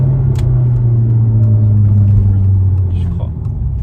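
Alfa Romeo engine holding a loud, steady low rumble at idle or light throttle, with faint voices audible in the background.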